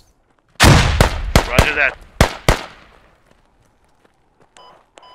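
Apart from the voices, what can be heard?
grenade explosions in a video game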